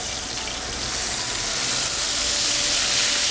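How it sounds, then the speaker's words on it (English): Flank steak searing in a hot Hexclad pan gives off a loud, close, continuous sizzle with a steady hissing spit that swells slightly as it goes on, with no talking. "we're gonna throw this steak on here. I really like a nice tight sear to really sear in those juices"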